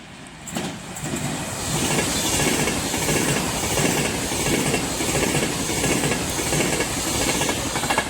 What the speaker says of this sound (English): the first train of the day will be an Avanti West Coast Class 390 Pendolino